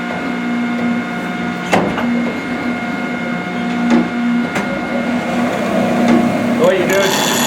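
Saw sharpening machine grinding the teeth of a shingle saw, a steady droning hum with tonal whine and repeated light clicks and ticks as it cycles, continuous and fairly loud throughout.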